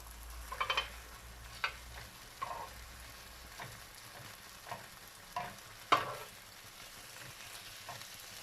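Thai pork skewers (moo ping) basted with coconut milk grill over heat, giving a faint, soft sizzle with scattered pops and crackles and a few louder taps, close by and without any voices.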